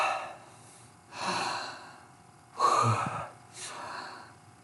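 A voice imitates a sharp gasp for breath after being held underwater, followed by quieter breaths and a second audible inhale, close and fairly soft with no words.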